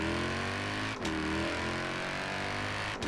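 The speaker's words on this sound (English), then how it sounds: "I do not like the engine sound" Car engine in the Forza Horizon 4 racing game, a steady mid-pitched drone holding at constant volume for about three seconds, with two brief dips like gear shifts.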